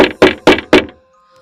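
Four firm, evenly spaced knocks on a door, loud and close with a hollow wooden thud, then silence. A horror-story sound effect set at Bhangarh Fort.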